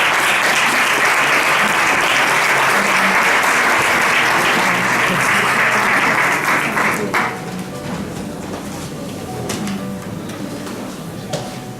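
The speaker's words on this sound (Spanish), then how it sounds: "Para ella, pues, pido un aplauso." Conference audience applause for a speaker being introduced: loud, dense clapping fills the room for about seven seconds, then thins into scattered claps and room murmur before fading.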